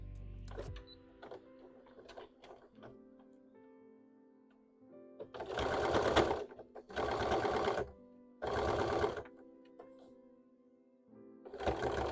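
A sewing machine stitches the other side of a hat in short bursts, each running steadily for about a second with brief pauses between, loud and close with no talking.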